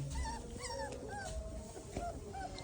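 A dog at a village home gives a run of short, high whines and yips, close and fairly clear over a low background hum.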